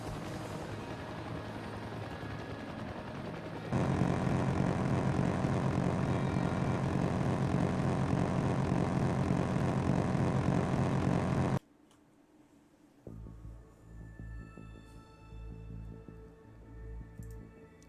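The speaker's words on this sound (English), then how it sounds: "Huey and I are both coming in for landings" A Huey helicopter in a video game comes in to land, its engine and rotor roaring steadily and growing louder before cutting off abruptly, followed by quieter game ambience.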